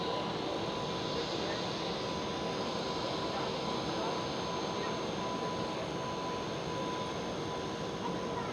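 A British Airways airliner taxis toward the runway at Schiphol, Amsterdam, giving off a steady, broadband engine roar that holds at an even level throughout with no breaks.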